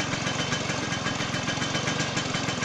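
A Vespa scooter engine keeps running with the clutch lever pulled in, a close, rapid pulsing putter with an even knocking rhythm that stays steady and loud for a few seconds, no talking.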